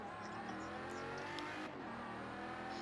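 Car engine in Forza Horizon 3 revving hard as it accelerates, a loud continuous roar with rising pitch and a brief tire squeal, no voices over it.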